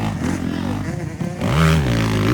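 Motorcycle engine revving loudly during a ladies' final heat race, a steady roar that rises in pitch partway through, with an announcer talking over it.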